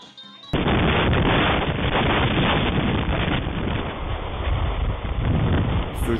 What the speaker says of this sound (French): Ce jour-là, le vent emporte tout sur son passage, avec des rafales de plus de 300 km/h.